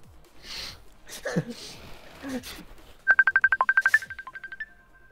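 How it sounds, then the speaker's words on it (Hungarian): A telephone rings with a rapid trilling electronic tone in bursts after people speak and laugh, the ring loud and close, fading toward the end. "Telefon."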